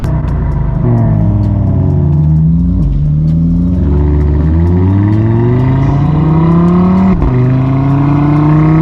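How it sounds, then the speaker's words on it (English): A powerful Audi TT RS engine revs loudly and continuously on a mountain road, pitch climbing through several gear changes with brief dips between, close and roaring. "so we can really hear the sounds of this car"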